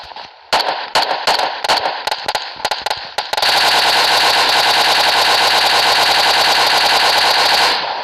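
Video game gunfire, loud and close: several separate bursts of rapid shots, then one long unbroken stream of automatic fire that runs to the end, with no talking.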